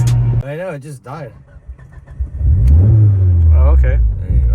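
A Mitsubishi Lancer Evolution IX engine cranks and catches, then settles into a loud, low, unsteady idling rumble while people talk nearby.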